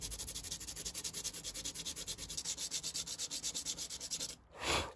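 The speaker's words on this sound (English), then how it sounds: "Okay, so that's pretty much all of that sanded" Rust is sanded off a steel panel of an ST150 motorcycle with rapid, rhythmic back-and-forth rubbing strokes, close and steady, ending with a short scrape.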